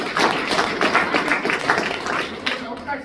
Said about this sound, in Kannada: ಮಿಸ್ಟರ್ ಸುದೀಪ್ ಸರ್ಗೆ ಜೋರಾಗಿ ಚಪ್ಪಾಳೆ